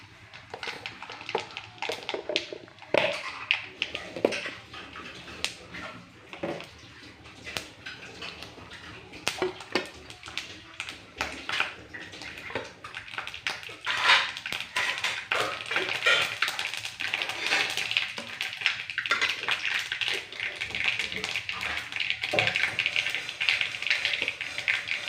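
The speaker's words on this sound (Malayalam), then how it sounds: "കടുക് പൊട്ടി നമുക്ക് ഉള്ളി ഇടാം." Mustard seeds crackle and pop in hot oil at the start of a kappa (tapioca) biryani, a dense run of sharp close ticks and taps over a steady sizzle, with no talk.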